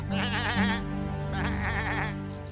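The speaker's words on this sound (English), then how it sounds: "We're seeing Mrs. Whistlehead's sheep" Sheep bleat in two wavering, drawn-out calls close by, loud and clear, with no talking.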